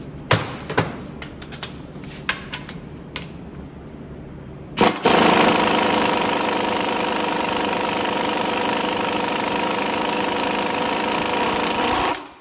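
Pneumatic impact wrench driving the nut on a car strut held in a Harbor Freight spring compressor, first short rattling bursts, then one long continuous loud hammering run close to the microphone.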